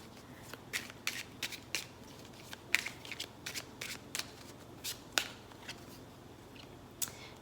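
Oracle cards are shuffled by hand in a quiet room, a close, soft series of irregular crisp riffles and snaps over a low background hum, with no talk.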